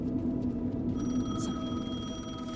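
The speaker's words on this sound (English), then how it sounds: "The payphone was ringing." A payphone rings in the video game Alan Wake 2, a steady electronic ring sitting over a low background hum and game ambience, fairly close and continuous.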